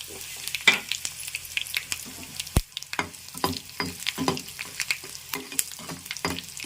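Cumin seeds and dried red chillies crackle and sizzle in hot oil, with irregular spatters and stirring scrapes close by.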